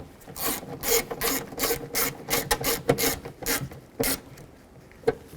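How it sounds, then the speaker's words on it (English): A small screw is driven into the side mirror trim of a 2002-06 Chevy Avalanche, heard as a series of short, scratchy ratcheting bursts close up, pausing between turns, with no talk. "Take the smaller screw and screw it in right here."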